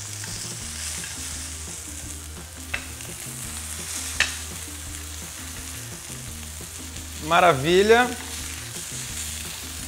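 Meat searing in a pan with olive oil, giving a continuous close sizzle with occasional pops and stirring scrapes, while someone speaks briefly over it near the end.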